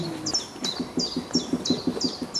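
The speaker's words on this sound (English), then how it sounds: "Woodpecker." A woodpecker calls during a guided bird walk in Fern Valley, giving about six sharp, descending notes in a steady rhythm, fairly near and clear over a low outdoor background, with no talk.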